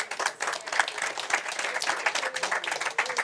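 An audience at a French Tech Day startup pitch contest breaks into warm applause as a presenter walks up, a dense sustained clatter of many hands with a few voices threaded through it.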